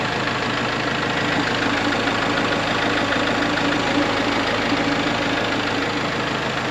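A Kubota Grand L4060 tractor's naturally aspirated 4-cylinder engine with 42 horsepower idles at a steady, even rumble, loud and close, with no one speaking over it.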